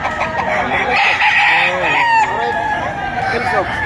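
A Gilmore Sweater gamefowl rooster crows loudly and close at a Batangas chicken market, one long drawn-out call over clucking and the murmur of people talking nearby.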